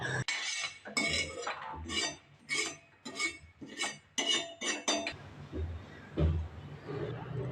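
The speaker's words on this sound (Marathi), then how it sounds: "हे शेंगदाणे आणि खोबरं आपण एका प्लेटमध्ये थंड होण्यासाठी काढून घेऊयात" Roasted peanuts and coconut are scraped from a pan onto a plate, a series of close metallic clinks and scrapes of spoon on cookware in quick bursts, tapering into quieter rustling and a final knock.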